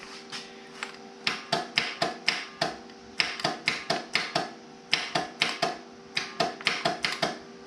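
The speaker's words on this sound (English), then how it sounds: "I got some clicking going on." Rapid bursts of sharp mechanical clicking from a trash-picked lawn tractor that will not start, several quick clicks per burst, repeated in steady groups close by with a faint hum underneath.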